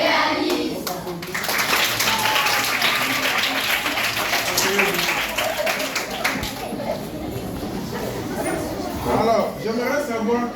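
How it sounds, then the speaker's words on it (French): Two sixth-grade classes at a school clap for themselves, loud and close, with children chattering and calling out over and after the clapping. "on s'applaudit."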